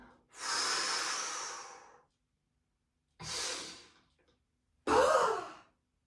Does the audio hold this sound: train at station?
no